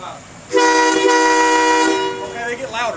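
Train air horns fed by compressed air at about 145 PSI sound a loud, steady multi-tone blast lasting roughly one and a half seconds at close range, followed by short voices and a brief rising squeal.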